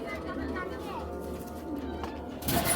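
A female racing pigeon, part of a red checker pair, coos softly in the background while someone talks over it nearly the whole time.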